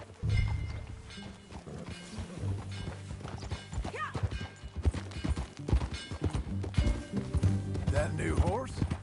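Horse hooves clip-clopping steadily in Red Dead Redemption 2 gameplay, over a busy bed of music and game sounds, with voices talking over it at times.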